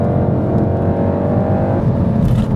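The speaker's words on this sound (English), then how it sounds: "So we're driving the top of the line Golf R with the adaptive suspension." A 2015 Volkswagen Golf R with adaptive suspension is driven along, its engine making a steady low droning rumble heard from inside the cabin, loud and even with no speech.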